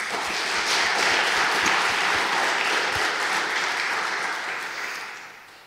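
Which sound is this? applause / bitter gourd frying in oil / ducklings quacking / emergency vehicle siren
applause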